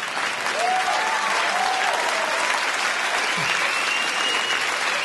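A stand-up comedy audience applauds steadily and loudly for several seconds in a dense, continuous wash of clapping. Faint cheers or whoops rise briefly within it.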